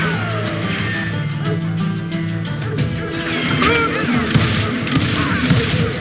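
Gunfire and blasts from the Western shooter Call of Juarez: Gunslinger, dense loud shots and crashes over continuous game music and ambience, with no clear pauses.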